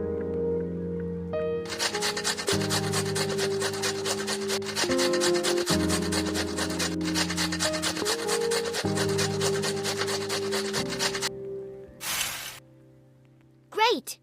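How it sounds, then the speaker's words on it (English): Grating a pizza ingredient in a Masha and Mishka cartoon cooking game, a steady scraping rasp repeated in quick strokes for about ten seconds over a looping musical game tune, ending with a couple of short chimes. "We need to grate this."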